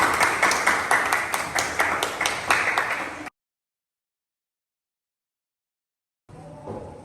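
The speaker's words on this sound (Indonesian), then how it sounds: "Tepuk tangan untuk tim B." A class of students claps for team B in a school civics lesson, rhythmic close clapping for about three seconds, then a sudden silence before faint room sound returns.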